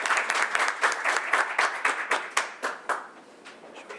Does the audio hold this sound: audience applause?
yes